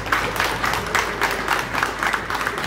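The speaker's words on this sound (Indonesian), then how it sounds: "Tepuk tangan untuk kita semua." A crowd applauds at the close of a national awakening day flag ceremony, steady rapid clapping from many hands at moderate distance, sustained for a few seconds without pause.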